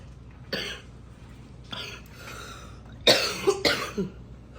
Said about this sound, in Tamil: கதைச்சு கொண்டு இருக்க இருமல் வருகுது